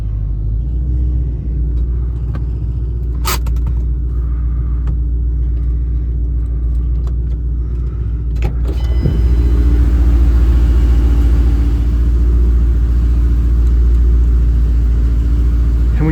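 Car engine idling after a dead battery was jump-started with jumper cables, a loud steady low rumble that swells slightly partway through and stays constant.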